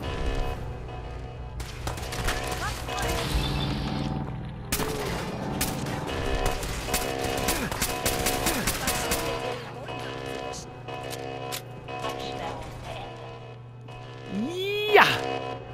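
Rapid bursts of gunfire from Protectron robots in Fallout 4 crackle through a dense firefight, with machine-gun-like volleys and sharp impacts, while a voice speaks over the shooting.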